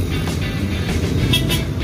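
Dense road traffic of motorcycles and cars crossing the new Leuwigajah bridge, a steady close engine rumble with passing vehicles swelling and fading, no talk.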